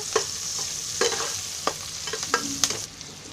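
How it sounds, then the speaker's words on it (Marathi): Onion frying in hot oil as the base for chicken korma, a steady low sizzle running throughout with several sharp stirring clatters from a utensil in the pan, close and moderately loud, no talking. "आता तेलामध्ये हा कांदा आहे ना चांगला फ्राय करायचा आहे"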